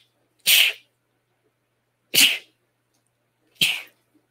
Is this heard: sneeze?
yes